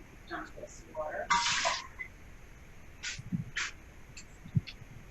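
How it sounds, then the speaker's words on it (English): Water is dumped out of a dish while spring rolls are made, a short splashing pour followed by a few smaller spills and light clatter. The sounds are faint and quiet, with a brief voice at the start. "dump this water"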